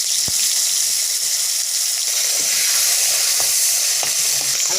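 Potatoes fry in a small amount of oil with black cumin in a kadai, giving a loud, continuous dense sizzle up close with faint scattered clinks and no voices.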